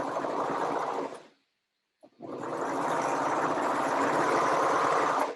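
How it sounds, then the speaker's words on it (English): Serger overlocking the crotch seam of a pair of pants, a loud, steady motor whir that stops briefly and then starts up again, running on without break. "put it under to where your needles are touching where you want to begin serging, and then go ahead and serge"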